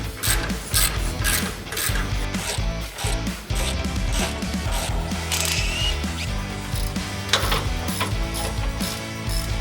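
Ratchet wrench clicking in fast repeated bursts while factory panhard rod bolts are loosened on a Toyota Prado or LandCruiser, close and busy with short pauses between strokes, no talking.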